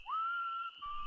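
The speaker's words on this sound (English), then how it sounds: "we heard the whistling." A single clear whistled note rises, holds steadily, then drops to a lower tone, quiet against a faint high background hiss.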